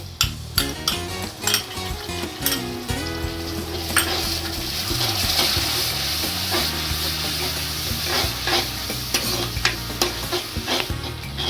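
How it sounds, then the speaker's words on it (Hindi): Masala frying with whisked thick yogurt for paneer butter masala, a steady sizzle under repeated scraping and clinking of a spoon against the pan, close and continuous. "देखिए मसाला भून रहा है, कलर कितना अच्छा आ रहा है।"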